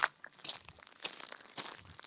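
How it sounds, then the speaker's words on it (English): Close, irregular crunching with crinkly, crackling bursts keeps up throughout, with no voices over it. "I'm going to have to move now because I hear the crunching"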